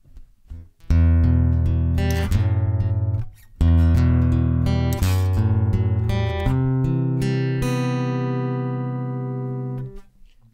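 An acoustic guitar through the normal channel of a VOX AGA150 acoustic amp strums chords and picks notes, bright and full, the final chord ringing out and slowly fading away.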